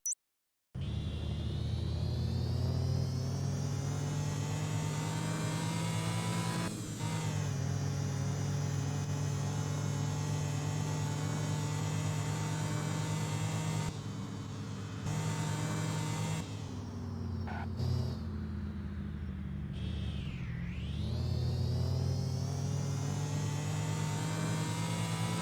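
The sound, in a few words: supercharger whine from a car engine in the game CloseCall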